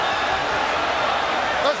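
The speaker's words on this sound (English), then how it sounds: "Crowd screaming for Cotto to land another left hook." Boxing crowd roaring and screaming during a fight, a dense, loud, continuous wall of cheering with no breaks, heard close and filling the whole moment.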